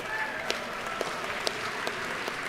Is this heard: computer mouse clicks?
no